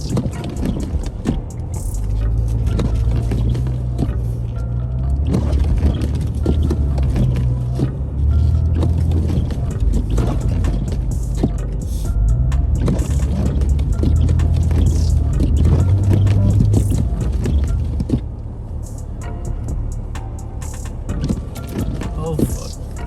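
A car stuck in snow during a Toronto blizzard, its engine droning and revving low and steady for most of the stretch, with wheel spin and rumble that ease off near the end while voices talk in the background.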